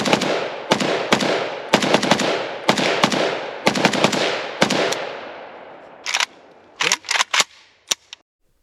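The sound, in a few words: Arsenal SAM5 rifle firing Tula steel-case ammunition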